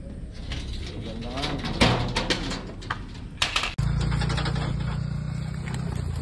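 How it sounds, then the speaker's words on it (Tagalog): Racing pigeons released from their loft ahead of the second lap of the BBCNE North race, wings fluttering in close bursts among voices, then a steady low hum takes over. "ayun po yung mga ibon"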